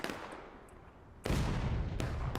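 Artillery cannon fire in the Civil War battle game War of Rights, set on Antietam Creek: a brief early blast, then a loud, heavy boom with a rumbling tail and a sharper follow-up crack, with no speech.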